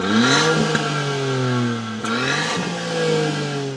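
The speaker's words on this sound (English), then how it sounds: "It sounds good for a little 600cc powertrain." A small 600cc car engine revs up and down several times, its harmonic whine rising and falling, loud and close with a light rattle underneath.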